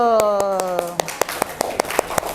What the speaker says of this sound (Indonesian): silakan tepuk tangan buat kelompok Bingo Battle